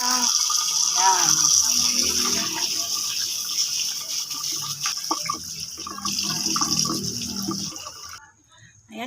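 Pork being washed under a running kitchen tap, a steady hiss of flowing water with intermittent splashing and clatter as the meat is handled, faint speech in places, cutting off near the end.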